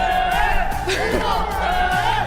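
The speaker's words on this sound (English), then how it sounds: "The crowd is going crazy." Loud crowd roar and cheering fills an esports arena during a Free Fire knockout match, a dense continuous wall of voices with whoops rising over it.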